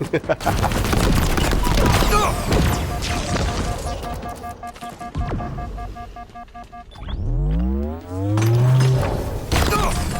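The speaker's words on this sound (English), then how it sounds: "I can hear the gunfire around me, but I can't see anyone." Rapid bursts of video game gunfire crackle and boom in dense volleys, with distant shots and a deep whooshing sweep near the end.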